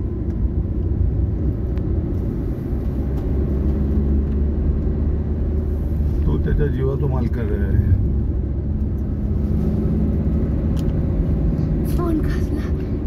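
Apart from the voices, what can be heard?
car being driven on a road trip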